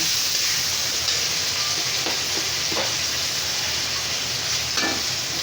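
Ginger, onion and garlic frying in a pan while a dal-style vegetable bhaji cooks, a steady loud sizzle throughout with faint scraping stirs near the middle and end.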